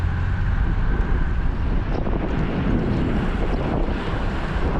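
Steady, loud wind buffeting a microphone on a hot, dry, breezy coast in Takalar, a continuous low roar with broadband rush and no break across the whole stretch.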